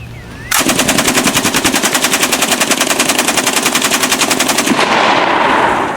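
A DP-28 machine gun fires one long continuous burst of rapid, evenly spaced, loud metallic shots that ends abruptly, leaving a brief fading echo.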